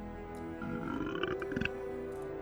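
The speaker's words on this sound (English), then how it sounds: "Elizabeth wants to hear a burp." A burp sound effect played from an Alexa smart speaker, a single short, low, gurgling belch with a rough rasp, heard faintly over a steady electronic hum.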